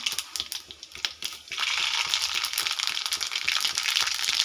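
Mustard seeds sputter in hot oil, starting with scattered pops and swelling after a moment into a continuous, close crackling sizzle with sharp clicks, and no talking.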